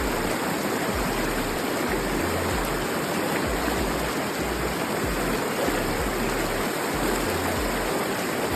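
Steady rushing river water along the Pacific Crest Trail in the Sierra high country near Crabtree Meadow, a loud continuous broadband flow like a stream or small cascade, close by and unbroken, with no voices over it.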